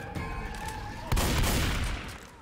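Gunfire in Left 4 Dead 2, a loud burst of shots breaking out after a quieter stretch and sustained for about a second before trailing off.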